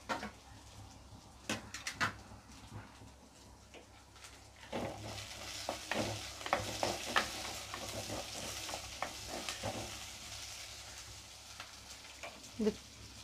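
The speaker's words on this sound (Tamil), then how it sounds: "வெங்காயம் தக்காளி அது நல்லா நைஸாக பேஸ்ட் மாதிரி ஆகணும். அது வரைக்கும் வதக்கிக்கிங்க." Onions and chopped tomatoes sautéing in a pan, a soft continuous sizzle broken by repeated spatula scrapes and taps, close but faint, with an occasional louder clatter and no voices.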